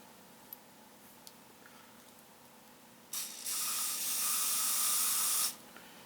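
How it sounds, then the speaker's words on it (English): Ballistol oil hisses from an aerosol can in one sustained burst of about two seconds, sprayed onto small Colt 1911A1 pistol parts, preceded by quiet handling clicks. "So I'm also going to spray down these other small parts and let them soak for a little bit."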